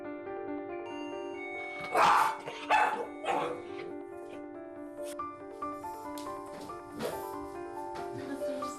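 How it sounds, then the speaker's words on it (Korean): A fearful, stranger-wary dog barks several times in sharp, irregular bursts over a steady tonal background sound, with quieter yips and grumbles between the louder barks. "보리가 으르렁대거나 짖으면 보호자는 관심을 끊고 자리를 뜹니다"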